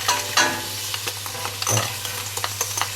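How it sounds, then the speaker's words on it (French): Crayfish and scallops land in a hot pan for laksa soup, bringing a burst of sizzling with spoon scrapes and small knocks, close and steady over a low hum. "J'ajoute maintenant les écrevisses et les noix de pétanque."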